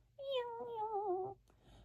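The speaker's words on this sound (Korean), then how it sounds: "겁에 질린 새끼 고양이가 애처롭게 울며 엄마를 찾았지만" A frightened kitten meows once, a single long, clear, slightly wavering cry up close, followed by faint quiet.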